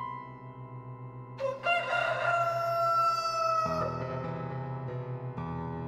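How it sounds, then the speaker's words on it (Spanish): A rooster crows once, loud and drawn out over a steady low musical drone, used as a sound effect within a spoken Mexican horror legend; no talk over the crow itself. "En ese momento, el canto de un gallo hizo que Ángel abriera los ojos"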